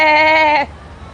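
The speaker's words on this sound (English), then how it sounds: "What's that called again? The goat? A sheep." A single sheep gives one loud, sustained bleat lasting just over half a second, close and clear, followed by a quiet background.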